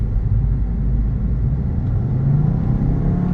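A 2013 Volkswagen Beetle 2.0 TSI convertible accelerates with a steady, loud, low engine rumble and road noise heard from inside the car, with no talking.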